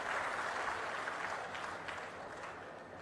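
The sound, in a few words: crowd applauding at a public meeting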